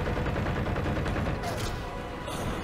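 Gunfire in Halo 4 rattles continuously in a dense, loud wash of game sound, with faint talk mixed underneath.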